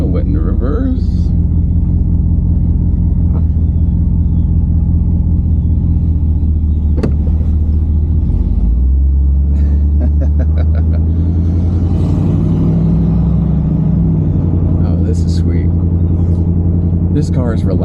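A barn-find Buick that sat for years, reversing then driving off, gives a steady low engine rumble close by with a shifting drone midway and clicks and knocks; people talk over it.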